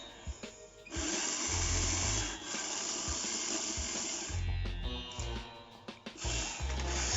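The motor of a Lima Class 73 OO gauge model locomotive whirs at close range in a fairly quiet, buzzing mechanical drone. Its pitch and strength shift as it speeds up and slows, with small clicks and knocks mixed in.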